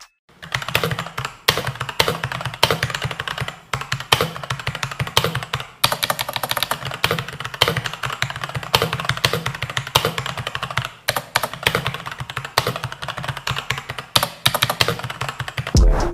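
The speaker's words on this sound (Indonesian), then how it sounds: "Ini dia suaranya saat ngetik gak?" Rapid, uneven clatter of fingers typing on a computer keyboard, close and crisp, with key taps bunching into bursts and brief pauses, running steadily and alone with no voices.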